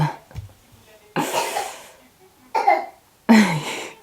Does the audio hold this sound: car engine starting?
no